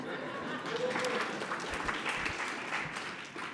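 Steady clapping from an audience fills the whole stretch, a dense wash of many hands with a few louder claps standing out.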